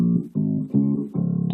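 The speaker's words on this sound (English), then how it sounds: "This is a bass guitar sound." Low, sustained bass guitar notes played in four separate plucked phrases, full and warm, each note ringing before the next.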